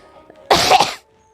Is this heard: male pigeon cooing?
no